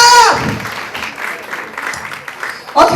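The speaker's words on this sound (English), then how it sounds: "Wow, please clap for her!" Audience clapping at a university education fair, a moderate burst of applause mixed with voices and crowd chatter, loudest at the very start and rising again briefly near the end.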